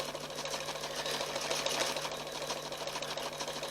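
An embroidery machine stitches a satin cover on a fabric mug rug, giving a dense, rapid, continuous mechanical whir and clatter with a steady underlying hum.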